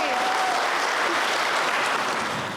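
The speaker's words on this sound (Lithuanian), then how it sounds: "Aplodismentų nuotakai." Wedding guests break into sustained applause for the bride during an office-style ceremony, a dense, even clapping that stays loud before easing off at the end.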